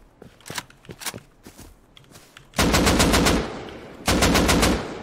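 Automatic gunfire in the survival game Rust: two loud sustained bursts of rapid shots, following quieter scattered clicks and footsteps, with no talking.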